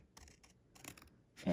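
Scissors snip cardstock up to a score line, giving a few quiet, close cuts in short bursts.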